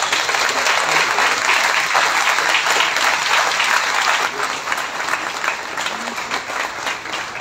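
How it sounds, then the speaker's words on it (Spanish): A university anniversary ceremony audience breaks into loud, sustained applause, a dense wash of many hands clapping that continues steadily and eases slightly toward the end. "Brindemos un fuerte aplauso para cada uno de ellos."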